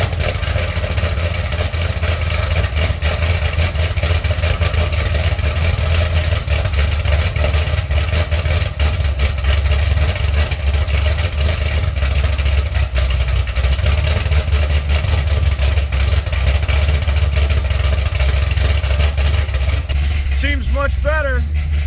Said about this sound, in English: Sounded like a heads cam intake LS7 with the muffler mod.